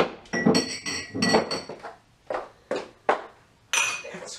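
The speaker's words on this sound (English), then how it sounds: "thank you for coming to do dishes with me on this Christmas Eve" Dishes being washed by hand at a sink on Christmas Eve, with crisp clinks and clatters of plates and cutlery coming in irregular bursts separated by short pauses, close and fairly loud with no talking.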